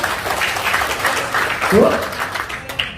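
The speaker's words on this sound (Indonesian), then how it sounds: "Oke, tepuk tangan buat siapa?" A room full of seminar attendees claps steadily in a dense, crackling wash, with voices and a brief vocal sound rising through the applause.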